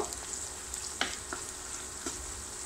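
Onions fry in about half a cup of cooking oil in a pan, a close, steady sizzle with a few faint clicks from stirring over it.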